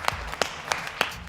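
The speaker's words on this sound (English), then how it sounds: "the actor suddenly started to clap his hands slowly" Slow hand clapping by the Joker actor in a police station film scene: four sharp, evenly spaced claps roughly a third of a second apart, fairly soft and isolated.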